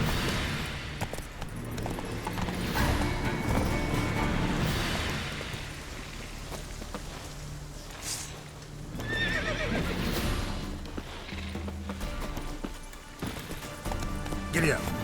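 A horse in The Witcher 3 gallops with steady clip-clop hoofbeats and lets out loud whinnies. A voice speaks over the running hooves.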